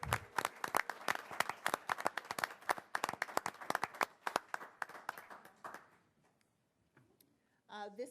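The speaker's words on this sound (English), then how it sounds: "So let's give her a round of applause." An audience at an award ceremony for a village Good Egg Award gives a round of dense, lively clapping for about six seconds, then it fades into near silence with a brief stir at the end.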